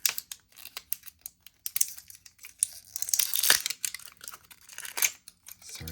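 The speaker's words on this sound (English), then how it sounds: "Sorry for the plastic ASMR." Plastic packaging crinkling and tearing as an ink sample is unwrapped, a series of close, sharp crackles and rustles in irregular bursts with short pauses, loudest in the middle, no talking.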